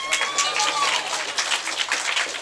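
An audience at a stage event claps in a dense, continuous patter of applause, with a whistle-like tone sliding through and voices mixed in.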